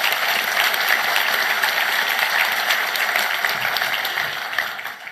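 Conference delegates at a Queensland Labor Party gathering break into a sustained, dense round of clapping that fills the hall steadily for several seconds before starting to thin out at the end.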